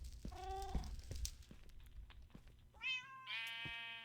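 Cats meowing in Minecraft: a short meow early on, then two higher drawn-out meows near the end, with soft thuds and clicks in between, fairly quiet.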